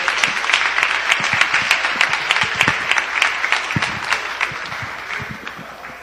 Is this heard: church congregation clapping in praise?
yes